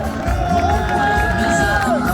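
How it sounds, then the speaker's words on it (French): A stadium crowd cheers and shouts for the Racing Club de Lens players at a championship celebration, a steady roar with whoops rising over it, along with an announcer's amplified voice. "Faites du bruit pour les joueurs du Racing Club de Lens."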